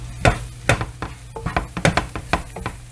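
Onion and rice flour stirred in a hot pan, with a series of close scraping and clacking utensil strokes against the pan over a low sizzle.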